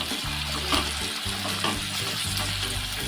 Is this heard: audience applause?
no